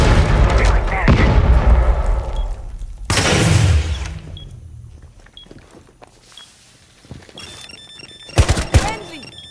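Kiba barrier breach in Rainbow Six Siege: a heavy burst of gunfire and blasts, then a second explosive boom, followed by quieter rumble and scattered clatter, with a final sharp burst near the end.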